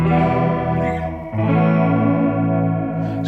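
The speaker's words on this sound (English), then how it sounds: "If you want some sort of really gnarly, horrible psychedelic chorus" Guitar run through a Line 6 Pod processor set to a gnarly, psychedelic chorus: sustained chords warble and shimmer with heavy modulation, loud and continuous, with a change of chord midway.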